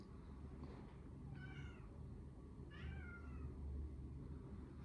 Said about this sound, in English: No, it's my cat.